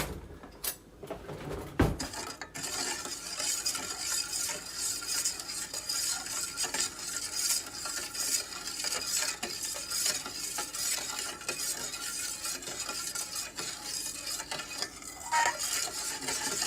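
Food is stirred in a heavy pot, with steady scraping and soft clinks of a utensil against the sides beneath a faint sizzle. A couple of sharp knocks come near the start, and the rest is continuous and close.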